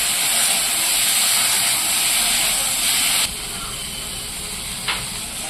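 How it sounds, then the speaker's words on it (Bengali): Prawns frying in hot mustard oil give a loud, steady hiss that drops noticeably in level partway through, with no talking. "গরম তেলের মধ্যে চিংড়ি মাছগুলো আমি দিয়ে দিলাম। এবার চিংড়ি মাছটা আমি ভেজে নেব।"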